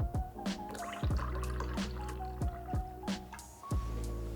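Milk pours into water in a pot, a series of gurgling liquid glugs and splashes repeating in an uneven rhythm, close and fairly loud, with no talking.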